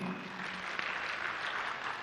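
Audience applause at an outdoor public participation rally in Eldoret, heard as a steady, moderately distant wash of clapping that holds evenly for about two seconds with no clear voices over it.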